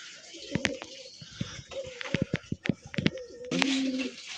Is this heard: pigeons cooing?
yes